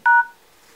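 A single short electronic keypad tone from a Lenovo A916 phone, a clean two-pitch DTMF beep lasting a fraction of a second, close and clear, then quiet.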